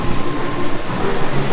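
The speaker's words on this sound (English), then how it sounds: "we knew it was going to rain" Steady rain falls on a rainy day at Disney's Hollywood Studios, a dense continuous hiss with low rumbling underneath and faint tonal crowd or park sounds mixed in, no talking.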